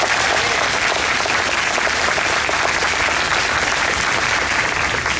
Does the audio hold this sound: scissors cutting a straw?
no